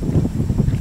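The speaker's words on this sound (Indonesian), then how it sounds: "angin baratnya bos mulai bertiup lagi" A west wind blows at sea before dawn during a night of torch-lit crab fishing from a boat. It buffets the microphone as a steady, loud, low rumble that rises and falls in gusts.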